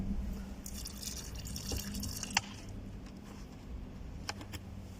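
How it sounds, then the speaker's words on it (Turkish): Water poured onto soil around a newly planted grapevine cutting, a soft continuous trickle and splash with a few sharper drips, close by and steady throughout. "Biraz daha su dökelim iyice otursun dibine."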